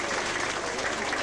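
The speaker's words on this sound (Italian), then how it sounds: "Fate un applauso" An audience applauds at the opening of a seniors' centre, a short, dense burst of many hands clapping with a murmur of crowd voices mixed in.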